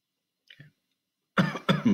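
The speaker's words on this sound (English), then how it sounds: "Pardon my coughing." Two faint, brief throat sounds early on, then two loud close coughs in quick succession near the end.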